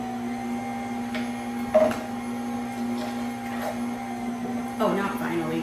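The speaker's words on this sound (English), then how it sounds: "We're just going to wait until all of that gets juiced." A juicer grinds lemons, golden kiwi and a small piece of ginger, giving a steady motor hum with occasional clunks and bumps as the produce feeds through, with no talking over it.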